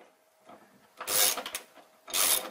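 A ratchet wrench tightens a Nylock nut onto a carriage bolt on a stud wall fastened to a steel beam, giving two close, loud bursts of rapid clicking after faint handling noise.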